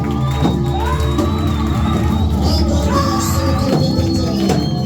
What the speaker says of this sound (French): Ajoute tes acclamations.